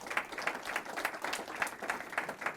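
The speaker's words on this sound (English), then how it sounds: "So let's give them a round of applause for being here." Audience at a 2022 year-end founders' event claps in steady, evenly spaced beats, a moderate, fairly quiet round of applause filling the room with no talk over it.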